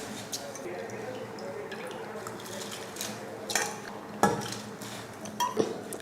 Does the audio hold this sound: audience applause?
no